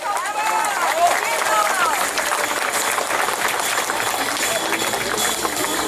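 A crowd at an awards ceremony for a rally race, Shipka 2013, applauds a champion with sustained clapping and some cheering, while a voice carries over a loudspeaker and the applause stays broad and steady.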